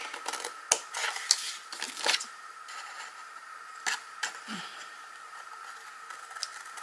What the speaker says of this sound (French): Je vais prendre les grands ciseaux, ce sera beaucoup plus simple.